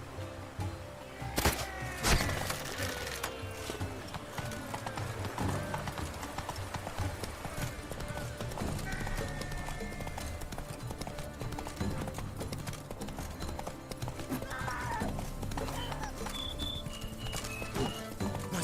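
Steady, rhythmic hoofbeats of a horse ridden at speed in The Witcher 3: Wild Hunt, clopping continuously over game music and ambience, with a brief whinny-like call.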